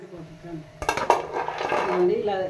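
Fried peanut pakodi being tipped from the cooking vessel into another bowl, a short burst of metallic clinks and scraping after a quiet start, then a low rattle, close by, with faint background voice.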